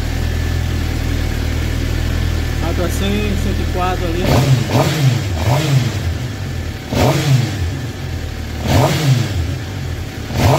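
A Suzuki GSXR750 GP motorcycle with a misfiring engine after a spark plug change idles steadily, then revs up in several sharp bursts, close by, while someone talks over it.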